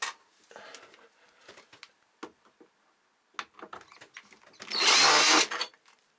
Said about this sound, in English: Now you should be able to get your drill into that hole and just remove the screw.